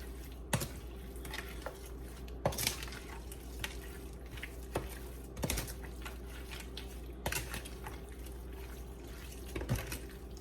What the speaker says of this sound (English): we take our spoon and we're going to just toss this around in here